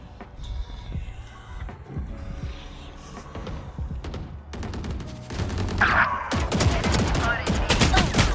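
Gunfire from a Valorant match, with rapid bursts and single shots ringing out over continuous game noise, the shooting growing denser and louder toward the end.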